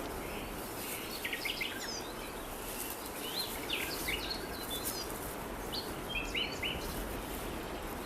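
Wild birds feeding in rowan trees along mountain streams near the timberline in autumn in the Arlberg mountains, with scattered high chirps and calls over a steady, noisy outdoor background.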